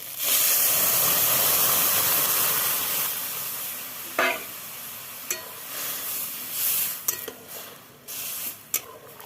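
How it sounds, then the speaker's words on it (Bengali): Dal is poured into hot oil tempered with bay leaf, mustard, radhuni, fenugreek and ginger paste. A loud hiss of steam bursts up and then fades, followed by scattered stirring scrapes and clinks of the pot. "ভাজা ভাজা হয়ে গেছে এবার ডালটা ঢেলে দিলাম"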